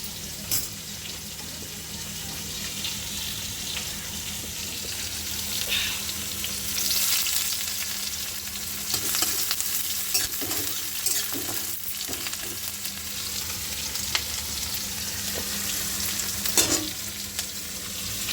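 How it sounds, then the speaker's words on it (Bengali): Fish fries in a hot pan with a steady, close sizzle and crackle, joined by occasional clinks and stirring clatter, with no talking. "তো এইদিকে মাছটা ভাজছি"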